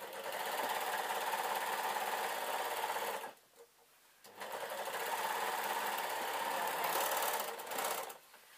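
A serger runs fast, sewing the waistband of a denim skirt. It makes a loud, continuous mechanical whir up close, with a brief pause partway through before stitching resumes.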